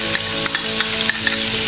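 A tablespoon of garlic paste sizzles in butter for chicken chilli dry, a loud, constant close-up hiss with soft periodic spoon taps against the pan.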